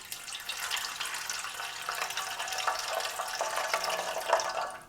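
Lukewarm water streams and trickles into a container for white bread dough, a soft, close, steady pour with light splashing and no voices.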